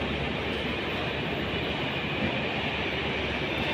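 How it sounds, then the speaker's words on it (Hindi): A train pulls out from a railway station platform in India, giving a steady, loud rumble of rolling wheels and coaches that holds even throughout, with no voices over it. "यहाँ से कोई सी ट्रेन का डिपार्चर हो रहा है"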